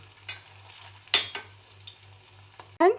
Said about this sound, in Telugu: ఇంకోవైపు కూడా బాగా ఇలాగే ఫ్రై అవనిద్దాం